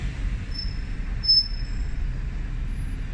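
An ALX300 bus at Liverpool One idles and rumbles steadily close by, with faint high squeals and hiss over a constant low drone and no talking.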